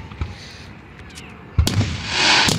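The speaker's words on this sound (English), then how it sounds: "This is good fireworks right here, bro." Fireworks burst over a farm show in Fayette County: a sharp nearby bang, then a loud crackling explosion that fades into a sizzling shimmer, all outdoors and loud.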